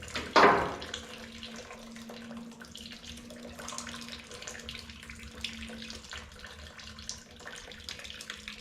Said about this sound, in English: We're losing some antifreeze on the floor